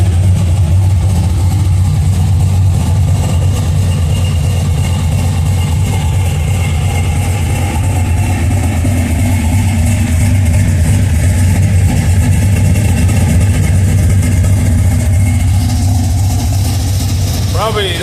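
A cammed 5.3-liter V8 idles with a steady, lumpy low rumble, loud and close, holding an even pitch throughout with only a slight rise near the end.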